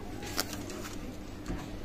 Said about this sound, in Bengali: চমৎকার ব্লাড লাইনের কবুতর